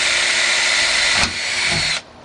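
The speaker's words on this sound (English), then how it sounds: "we're going to go ahead and start drilling the hole now" Power drill boring a hole through the floor of a Ford F-150 truck under the rear seat, a loud steady whine that drops off abruptly near the end.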